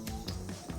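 Mustard and cumin seeds crackle and pop in 2-3 spoons of hot oil in a kadhai, with a few sharp, close snaps over a steady low background.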